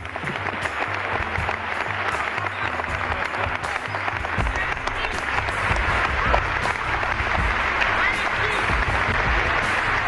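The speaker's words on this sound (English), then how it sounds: "Bring them on with a warm round of applause" An audience gives a warm round of applause, dense clapping that holds steady and grows slightly fuller toward the end, with crowd murmur mixed in.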